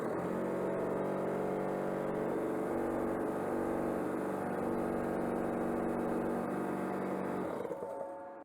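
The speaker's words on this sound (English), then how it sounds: "Now for the compressor." An air compressor powered by a 2000W inverter hums and drones at a steady pitch for several seconds, then winds down at the end.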